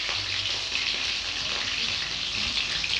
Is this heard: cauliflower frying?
yes